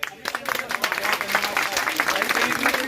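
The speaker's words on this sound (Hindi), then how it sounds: "बहुत बहुत तालियां भाई" A crowd applauds at a mango festival in Garhmukteshwar, dense clapping rising quickly and holding steady, with a voice speaking over it.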